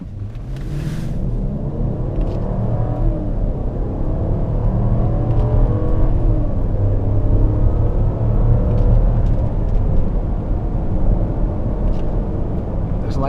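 A Mercedes-Benz GL550 V8 engine revved in manual mode, with a loud, steady low rumble and rising whir from inside the cabin throughout.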